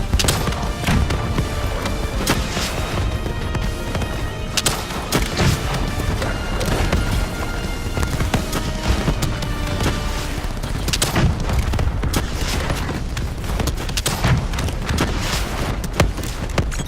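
Sustained gunfire and booming blasts against the Manticore boss in the Black Ops 3 campaign, dense loud bursts with heavy impacts continuing throughout without pause.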